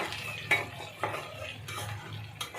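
Onion, garlic and dried chilli stir-frying in a pan for a chutney-style greens dish, with a low sizzle under repeated sharp scrapes and clinks of a spatula against the pan, roughly every half second.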